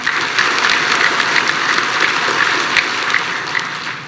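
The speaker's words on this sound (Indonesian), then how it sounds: "Kurang keras nih tepuk tangannya." Crowd at an Indonesian Perindo party political speech gives sustained loud applause, a thick wash of clapping with crisp individual claps popping through, steady for four seconds and easing slightly at the end.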